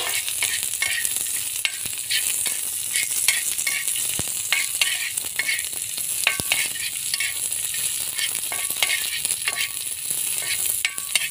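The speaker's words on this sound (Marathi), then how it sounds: "आता प्रथम कांदे भाजून घ्यायचे आहे आपल्याला" Onions roasting on a hot griddle (tava) for a masala, a steady crackling sizzle with scattered sharp pops, close and continuous with no talking.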